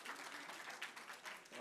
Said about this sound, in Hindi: आप लोग ताली बजा रहे हो